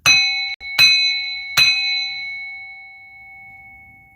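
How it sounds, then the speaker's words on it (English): A small metal bell struck three times in quick succession, each bright ring overlapping the last before a long, clear sustain slowly fades to silence. "I'm going to ring this bell to remove, rebuke, banish the spells"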